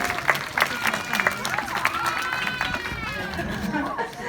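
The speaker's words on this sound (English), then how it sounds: "let's give him a massive round of applause, everybody." Audience clapping and cheering at a sea lion show, a dense sustained round of applause mixed with crowd chatter, fairly loud and close throughout.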